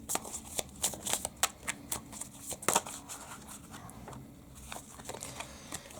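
Tarot cards being shuffled by hand, a run of crisp papery riffles and flicks with short bursts and pauses, close and fairly quiet with no talking.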